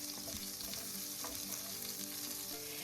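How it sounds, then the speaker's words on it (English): Beef with green onion and minced garlic sizzles steadily in hot oil for a beef stir fry, a loud close crackle with brief stirring scrapes and no talking. "let it sizzle in the oil briefly. Then flip the beef over and add the minced garlic."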